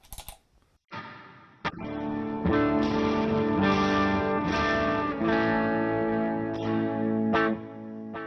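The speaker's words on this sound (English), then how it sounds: "and then I'll turn the delay back on as well." Bass guitar played through an HX Stomp and a Ruby amp with light reverb and delay switched on, sustained melodic notes with echoing repeats and a smeared, effect-laden tail, loud and alone after a brief quiet start.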